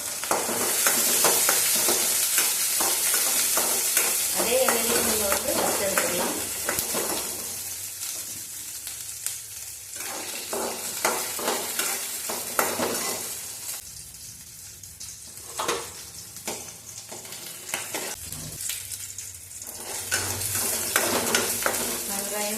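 Six or seven small garlic cloves and small onions fry in a pan, giving a loud, steady sizzle with stirring clatter and pops. The sizzle carries close and continuous throughout, with no talking.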